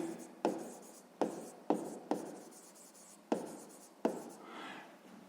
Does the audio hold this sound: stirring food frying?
no